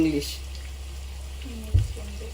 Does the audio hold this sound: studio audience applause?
no